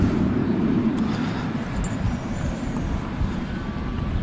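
A Boeing 787-10 airliner at Manchester Airport, a steady broadband jet roar with rumbling low end and some wind buffeting, distant but sustained, with no talking.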